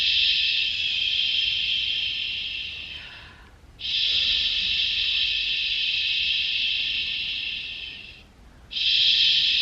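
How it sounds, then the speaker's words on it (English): A baby shusher white noise machine gives a steady rushing hiss, like a soft shh, in three long bursts separated by two brief dips. It is loud and close, with no voices. "This is just a white noise machine for babies."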